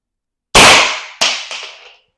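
An air gun fires a single loud, sharp shot powered by a threaded CO2 cartridge, followed by quick echoing cracks that decay within about a second and a half, close to the listener.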